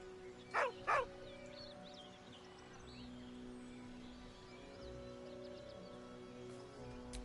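A dog in the video game Baldur's Gate 3 gives two short, close whining yelps in quick succession near the start, then falls quiet over a low steady ambient hum.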